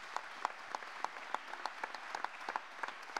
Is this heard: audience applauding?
yes